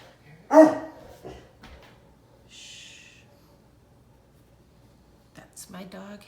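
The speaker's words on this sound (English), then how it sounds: "That's my dog Harry." A pet dog gives a single sharp bark close by in a quiet indoor room where yarn crafting is underway, followed by a few soft sounds and a person speaking near the end.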